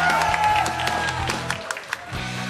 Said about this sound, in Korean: 다오팀을 향해 큰 박수 부탁드리겠습니다.